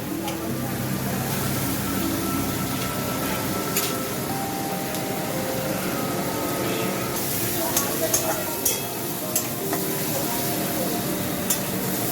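Whole cumin, whole fennel and chopped onion fry in refined white oil for masala mushroom, giving a steady, dense sizzle with stirring throughout, while tonal background music plays over it.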